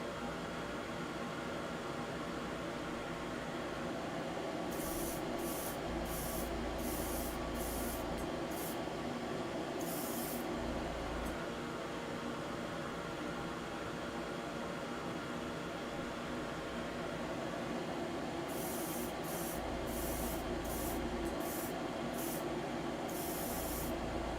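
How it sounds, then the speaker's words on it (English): Short bursts of spray from an aerosol can of primer misting onto Master Grade Guntank model kit parts, in two clusters of quick spritzes over a steady background hum, with no talk. "Just give these a quick spritz of primer."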